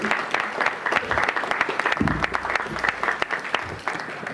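A roomful of people applauds at a city council meeting, with sustained, fairly loud clapping and some individual sharp claps and low crowd noise underneath.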